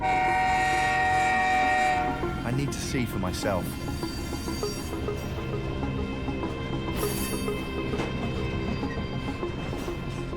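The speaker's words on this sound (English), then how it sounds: "The trains run all day and all night. Sitting here beside the track, the noise is deafening." A long cargo freight train rumbles past close by on a railroad with a loud blaring horn, heavy rolling clatter continuing throughout while a voice speaks briefly over it.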